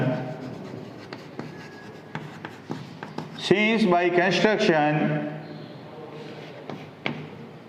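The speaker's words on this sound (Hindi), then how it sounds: "मैं पहले यहाँ लिख रहा हूँ" Chalk or marker strokes on a classroom board during a Class 9 geometry lesson on Heron's formula, a burst of scratchy writing in the middle with a teacher's voice speaking before and after.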